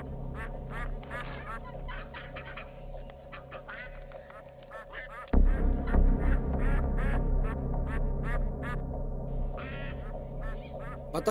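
Ducks quack repeatedly in short bursts while being fed grain, with a low steady hum underneath and a sudden louder rumble joining midway.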